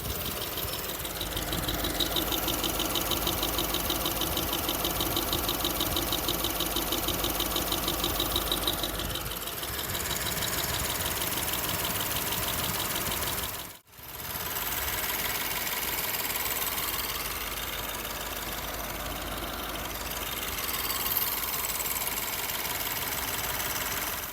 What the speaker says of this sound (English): me going round the engine with a microphone and listening to certain points